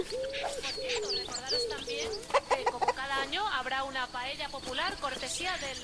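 Hen clucking in Alba: A Wildlife Adventure, a game set in a Mediterranean seaside town, with repeated clucks and bird calls over a steady ambient backdrop while a person talks.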